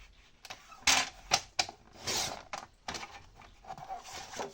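Scissors or a paper trimmer cutting cardstock for a simple scrapbooking card, giving a run of sharp snips and crisp paper rustles at close range, uneven in rhythm, with no talking.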